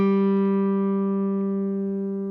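A guitar string held during tuning with a clip-on tuner, one steady sustained note slowly fading away with no other sounds.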